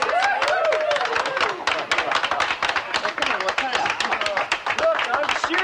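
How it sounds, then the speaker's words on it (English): Audience applause and clapping from a crowd in a studio, dense rapid claps with some cheering and voices mixed in, fairly loud and steady throughout. "Hey, let's give these guys a big hand of applause."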